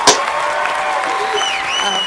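Dense crowd applause and cheering at a large gaming press event fills the moment, loud and continuous, with a sharp nearby handclap at the start.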